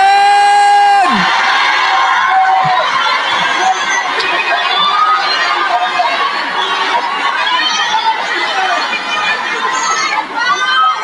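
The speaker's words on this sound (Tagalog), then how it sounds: "Tatagal tayo sa sigawan ninyo" Live political rally audience in the Philippines shouting and cheering loudly, a dense sustained crowd roar with whoops and excited voices throughout, following a brief held tone at the start.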